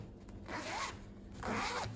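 A zipper on the back of a pencil skirt is run twice, each pass a short, close, rasping zip with a brief pause between them.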